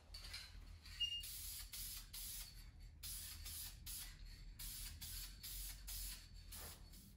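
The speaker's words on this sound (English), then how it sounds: "do a little spray" Short repeated bursts of aerosol primer spray hiss in a workshop, several quick pulses close by over a low steady hum, with brief gaps between each spray.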